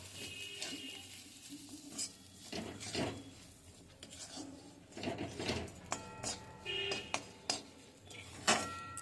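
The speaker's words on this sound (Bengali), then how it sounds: "এবার ভালো করে মিশিয়ে নিচ্ছি।" Spiced pitha filling being stirred and mixed with salt and sugar in a pan on the stove, with a spatula scraping and clinking against the metal in irregular bursts over a low sizzle.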